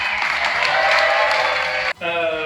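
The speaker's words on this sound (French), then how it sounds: "vous pouvez vous applaudir, les gars, chaleureusement" Guests at a 30th wedding anniversary party break into warm applause for about two seconds, close and steady, then it cuts off and a voice begins speaking.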